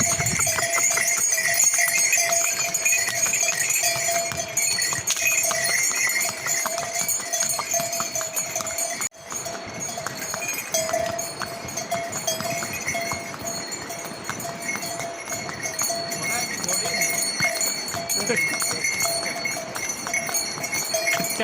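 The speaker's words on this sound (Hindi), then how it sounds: "खच्चर है खच्चर, घोड़ा ना घोड़ी में खच्चर है।" Mule hooves clip-clop steadily with jingling bells along a steep Kedarnath trek path beside a drop, continuous and fairly close, amid rain or outdoor noise.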